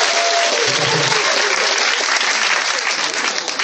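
A church congregation bursts into steady, loud applause that fills the space without pause, a broad wash of clapping from many hands with faint crowd voices mixed in.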